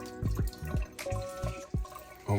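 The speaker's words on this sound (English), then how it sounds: "I'm washing my pernil out right now." Tap water splashes and drips over a pork shoulder being rinsed for Dominican pernil in a sink, with close, irregular gurgles and droplet plops.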